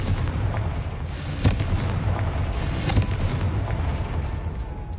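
Explosion from the Confringo fire spell in Hogwarts Legacy, heard as a dense, loud rumbling blast with a couple of sharper booming peaks and no speech.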